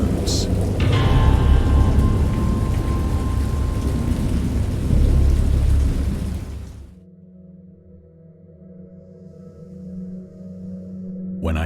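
Thunderstorm with heavy rain in a Lovecraft horror video game: a loud, dense wash of rain and rolling thunder fills the first seven seconds, then drops away to a low, quiet hum.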